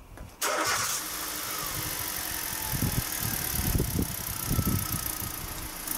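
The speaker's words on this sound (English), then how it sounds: "we'll start the vehicle" A vehicle engine is started, with a sudden cranking burst that catches and settles into a steady idle, close and fairly loud throughout with no talk.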